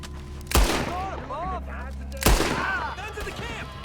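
Two loud, close gunshots crack during a camp shootout in Red Dead Redemption 2, spaced well apart, with shouting voices and ringing tones between them.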